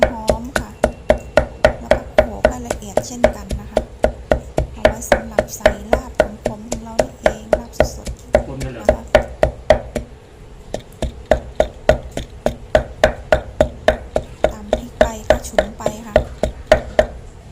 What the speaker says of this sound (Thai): ต่อไปนี่ก็จะมาโขลกพริกนะคะ